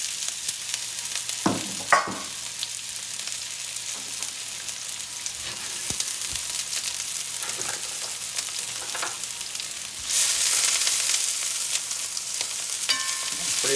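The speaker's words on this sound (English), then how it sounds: "So I'm going to start with a little bit of kind of coarsely chopped onions, because that's just the way I like them in my pizza." Coarsely chopped onions fry in a hot pan for pizza topping, a steady close sizzle with occasional stirring scrapes, growing brighter and louder toward the end.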